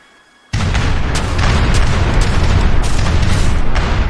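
Ship cannons fire in a naval battle in the video game Age of Empires III, a sudden loud boom opening into a sustained roaring barrage of overlapping blasts.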